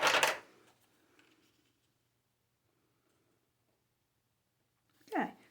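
Designer series paper is trimmed along its side by hand: a short, crisp paper swipe or snip at the start, near silence, then another brief sharp cut at the end.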